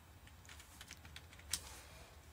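Quiet, rapid typing on a keyboard to write a message, a close run of light clicks with one sharper keystroke near the end, no one talking.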